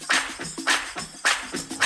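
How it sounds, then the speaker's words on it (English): Drum loop of layered stomps and claps, each beat a heavy low thump under a bright, wide clap. The pattern repeats in a quick, steady, driving rhythm, loud and dense throughout. "And then he's got his stomps and claps right there, which produce this kind of massive loop that sounds like this."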